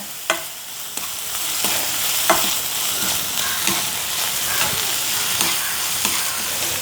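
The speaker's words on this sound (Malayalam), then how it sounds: "ഇത് നന്നായിട്ട് വഴറ്റാം. കുറച്ച് കറിവേപ്പിലയും കൂടി ഇട്ട് കൊടുക്കാവേ." Vegetables with crushed green chillies, curry leaves and rock salt sauté in a pan, giving a constant sizzle broken by sharp stirring scrapes and a few clinks.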